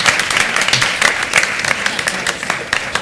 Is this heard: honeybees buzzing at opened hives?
no